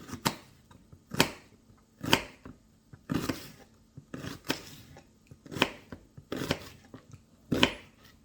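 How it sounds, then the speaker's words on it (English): A knife slices an onion into thin slices on a cutting board for fried potatoes and onions, about a dozen crisp, close chops in a steady rhythm of roughly one per second, with no talking. "And then I'm going to cut thin slices."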